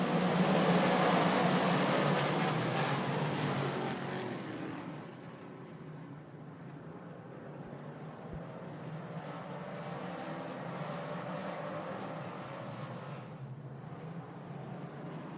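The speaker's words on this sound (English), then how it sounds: "Williamson and King stand on the gas in the sprinkle restart zone" Sprint car engines at Lernerville Speedway's dirt oval roar on a restart, a loud broad engine roar that is strongest at first, then eases to a steady distant drone.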